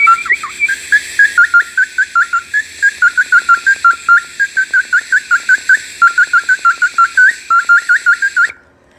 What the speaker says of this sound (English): And also got this bird whistle from Mexico.